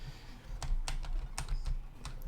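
Keys on a gaming PC keyboard are pressed in a quick, uneven series of sharp clicks and clacks close by, over a low background hum while a game is played.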